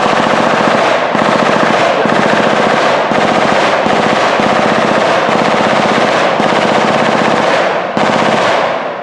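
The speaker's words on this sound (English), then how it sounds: "one of our unit members has an MG-42 machine gun. He's just doing a demonstration" Extremely rapid MG-42 machine-gun fire in long sustained bursts with brief pauses between them, loud and close, no voices, at a World War II reenactment weekend.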